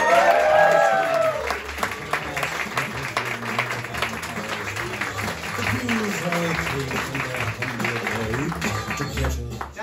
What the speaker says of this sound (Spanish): Quiero un fuerte aplauso para Cindy del Canto.